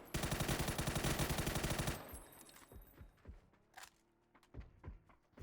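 A rapid, dense burst of MG3 machine gun fire in the PUBG video game lasts about two seconds, then gives way to scattered fainter shots and thuds.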